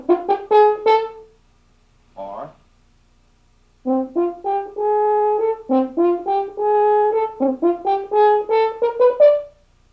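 French horn plays the Till Eulenspiegel call with wrong note lengths, a solo phrase of short and held notes with a pause, then a longer rising and falling run, clear and close.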